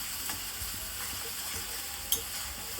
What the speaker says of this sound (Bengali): এদিকে মশলাটাকে ভালো করে নেড়ে চেড়ে নিচ্ছি।